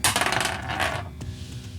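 Special Deathwing dice tumble and clatter on a tabletop during a Dark Angels versus Khorne Daemonkin wargame, a quick rattling burst followed by a final small knock as they settle, loud and close with no talk.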